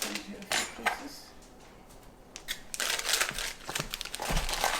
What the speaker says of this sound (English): You take the knife and cut it up into a few pieces.